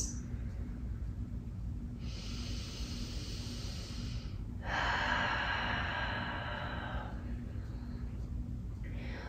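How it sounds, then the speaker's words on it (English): Slow, deep breaths during a yoga sun salutation in a quiet room, with two long airy inhale-exhale swells rising above a steady low background hum. "Taking nice, deep"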